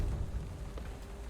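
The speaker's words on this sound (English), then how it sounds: "Gotta say though, this rain sound effect is rad." Steady, dense rainfall with a low rumbling undertone from the game Curse of the Dead Gods, a continuous wash of rain with no pauses and no talking.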